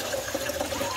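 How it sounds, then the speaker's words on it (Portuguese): Water poured into a drum of milk for farm cheese making, a steady splashing fill running throughout at moderate level with no voices. "Aí tem que colocar um pouco de água."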